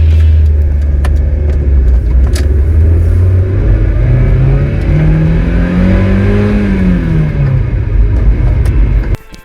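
A Mazda Miata engine drones loudly from inside the car, pitch rising and falling steadily as it accelerates and cruises, with no talking, before cutting off abruptly.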